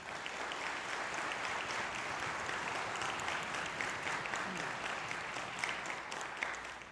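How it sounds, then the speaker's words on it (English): Audience applause at a high school band winter concert, steady dense clapping that continues evenly for the whole stretch, heard from a distance in a large hall. "Please a big round of applause for the admin team."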